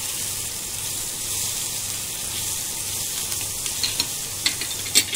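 Tomato masala with chili powder fries in a pan with a steady close sizzle, and light stirring scrapes and taps pick up toward the end, no talk.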